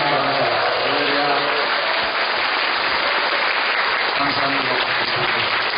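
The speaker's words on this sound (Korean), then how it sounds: "다 일어나서 기립박수를 한번" A church congregation rises for a standing ovation at a testimony service with a guest drummer, steady dense applause filling the room throughout, with voices mixed into the clapping.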